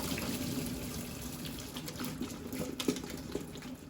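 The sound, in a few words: draining boiled potatoes in a colander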